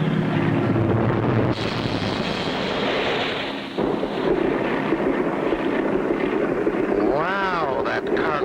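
Cartoon airplane engine stalling and sputtering over a lake before a rough landing, a loud continuous roar with wind-like rush, a sudden shift partway through and warbling swoops near the end.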